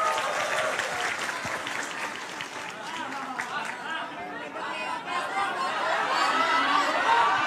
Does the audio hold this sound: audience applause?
yes